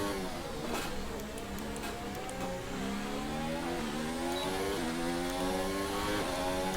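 F1 race car engine in a racing video game, a loud sustained high whine with harmonics rising and falling as the car runs with DRS open and overtakes, continuous throughout with no talk.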